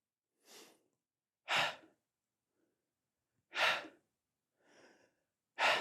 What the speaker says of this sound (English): Exhale, inhale, exhale, breathe and move. Sharp little exhales.